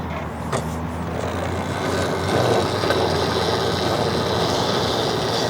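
An EBOX Dragster electric mini bike fitted with a wheelie bar is gently throttled while held up on its rear wheel, giving a steady, close motor whine and rumble that swells slightly midway and then holds.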